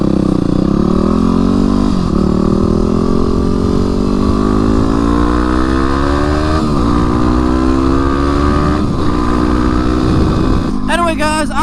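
A Yamaha WR250X motorcycle on the road, its loud engine tone climbing steadily in pitch through each gear before dropping at the shifts, heard close with constant wind rush.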